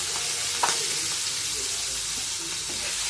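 Marinated prawns fry in hot oil for a prawn and potato curry, making a constant close sizzling hiss, broken once near the start by a sharp spatter or click, with no voices.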